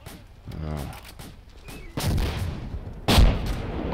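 Gunfire in the Escape from Fallujah combat game: a few sharp, loud shots and bursts crack out over a murky background, with the louder blasts arriving in the second half and voices faintly present between them.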